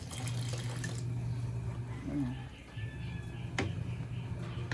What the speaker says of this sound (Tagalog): Dagdagan natin siya ng tubig.